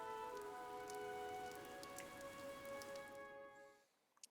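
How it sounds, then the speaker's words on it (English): Steady rain patters in a Fire Emblem Three Houses game scene under soft sustained musical tones, a continuous wash that fades out near the end. "This rain threatens a coming storm."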